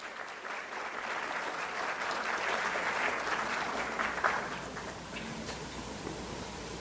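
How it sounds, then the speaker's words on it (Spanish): Warm audience applause welcoming a speaker at a technical talk on the ISO/IEC 17025 standard, a steady, fairly distant crowd clap that swells slightly mid-way and continues evenly to the end. "lo recibimos con un fuerte aplauso"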